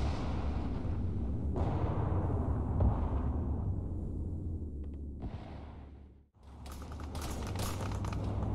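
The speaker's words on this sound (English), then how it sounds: "Tank just rode right past him." A tank in the Arma 3 battlefield game rumbles past, heavy low engine and tread noise droning steadily for several seconds, dipping briefly before returning loud and close with metallic clatter.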